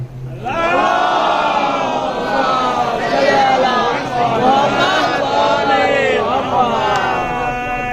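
Large gathered audience at a religious celebration loudly reciting a devotional prayer in unison, many voices chanting together in a full, rising and falling chorus that fills the whole stretch after a brief start.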